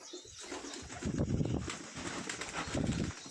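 Pigeons cooing in a loft where breeding pairs sit over chicks and eggs, soft throaty coos rising in two swelling bursts, close and clear, with faint fluttering and rustle around them.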